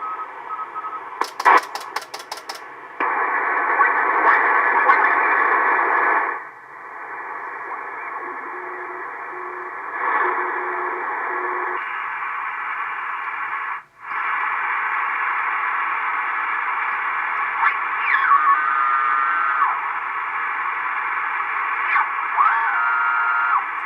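An Icom 720A HF ham transceiver tuned to the 40 meter band hisses with steady band noise and static, with faint drifting tones and brief bursts and dropouts, loud and continuous with no talk.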